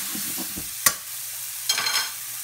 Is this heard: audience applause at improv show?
no